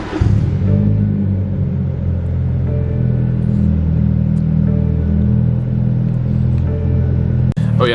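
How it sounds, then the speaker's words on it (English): A BMW F32 engine with a muffler-deleted exhaust rumbles loudly and steadily at a constant low pitch for the whole stretch, with a brief dip near the end. "the only other thing I have done to this car is a muffler delete"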